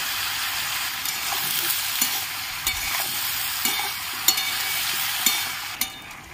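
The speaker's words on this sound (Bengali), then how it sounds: "সবজিগুলো হালকা লাল করে ভাজা হয়ে গেছে।" Vegetables fry and get stirred in a pan with turmeric and salt for a village-style pumpkin-greens dish, a steady close sizzle broken by several sharp scrapes and clacks of the spatula, with no voices.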